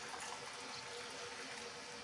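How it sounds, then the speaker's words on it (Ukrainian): Boiling water poured from a kettle into a jar of cherries and currants for home-canned compote, a steady close splashing and trickling flow with no talk. "Тепер переливаємо цей кипяток, повністю заливаємо в ягоді."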